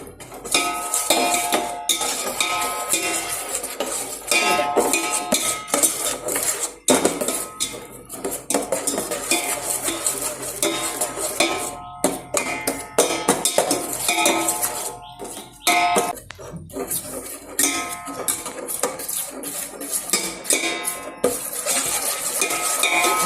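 A utensil scrapes and clinks steadily against a pan as white sugar is stirred while it melts into caramel for a jigarthanda recipe, continuous busy metallic stirring with no voices.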